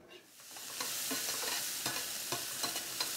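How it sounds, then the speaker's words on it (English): Pancetta sizzles in a pan as its fat renders, a dense, close crackle with a run of short stirring taps and scrapes, growing louder after a quiet start. "just rendering off any of the fat on the pancetta"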